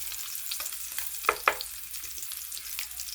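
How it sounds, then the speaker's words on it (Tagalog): Garlic fries in a hot pan for a crab omelette, a steady close sizzle with a couple of sharp stir clicks partway through, heard without any talk. "Lalagay na po tayo ng konting garlic"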